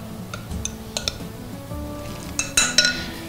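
A spoon works through buttermilk stuffing with golden raisins, salt and cracked pepper in a bowl for pork chops, clinking and scraping against the dish in scattered light taps, with a brighter burst of clinks near the end.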